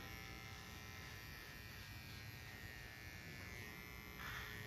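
Electric hair clippers buzz steadily and close up while trimming the neckline of a pixie cut, a continuous loud drone with no talking.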